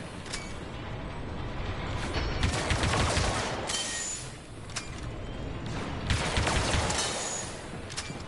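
Rapid bursts of gunfire from the Star Wars Battlefront 2 video game, dense and continuous with repeated sharp cracks over a busy battle din, loud and close throughout.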